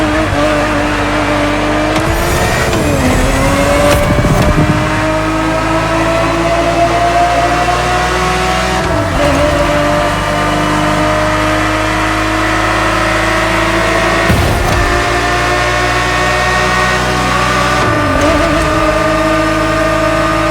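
A Ferrari 365 GTB4 in a 1970s racing setting in The Crew Motorfest revs loudly and steadily, its engine note rising and dipping through gear changes with brief tire squeals, close and continuous with no voices.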